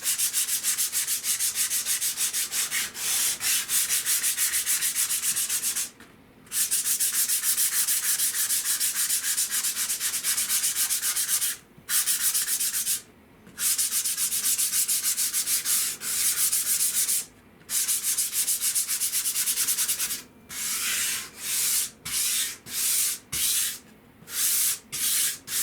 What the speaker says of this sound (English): So it's just a light sanding over the surface.